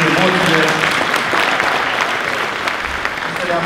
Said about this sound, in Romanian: vă rog să le primiți cu aplaude